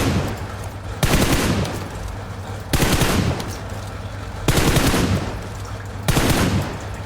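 Weapon fire in the video game PUBG Mobile, several bursts of rapid automatic shots, each lasting about a second, separated by brief quieter gaps, loud and close.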